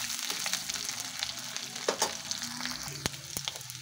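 Potatoes frying in hot oil in a pan for a new-potato, cauliflower and fish dish, a steady close sizzle with scattered pops and a few utensil clinks, no talking.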